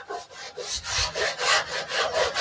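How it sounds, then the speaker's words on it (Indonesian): Sandpaper is rubbed over the filled body panel of a Suzuki Jimny during modification, a close rhythmic rasping of about eight even back-and-forth strokes with no talk. "kita suruh aja amplas seperti ini, agak berdebu"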